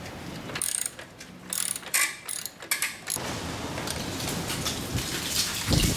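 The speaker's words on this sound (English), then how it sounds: "loosen these two bolts off the adjuster arms" A T45 bit loosens motorcycle chain adjuster arm bolts, producing a close run of metallic ratcheting clicks and wrench-mechanism rattles. The clicks come in bursts, followed by a steadier stretch of grinding mechanical noise with no talking.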